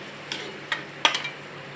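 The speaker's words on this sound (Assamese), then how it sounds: "এতিয়া ইয়াত মই গ্ৰাইণ্ড কৰা বিলাহী আৰু পিঁয়াজখিনি দি দিম" Ground tomato and onion being stirred in a frying pan, with a few sharp spoon scrapes and taps against the metal over a quiet low sizzle, close by and without any talking.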